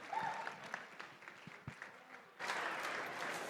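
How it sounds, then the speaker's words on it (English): Gala audience applause at a charity fundraiser, a few sparse claps building into a sudden full, sustained round from a crowd of guests in a large room. "Ladies and gentlemen, a big round of applause for all our bidders, all our buyers, all the generosity."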